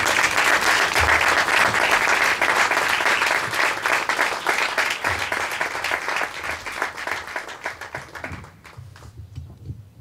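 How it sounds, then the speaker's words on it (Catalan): Loud, dense applause from an audience at a commemorative event in Sant Vicenç dels Horts, following a sung verse performance; steady clapping for about eight seconds, then thinning out and fading near the end. "donem un fort aplaudiment"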